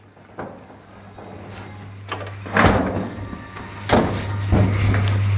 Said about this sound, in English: We close the door.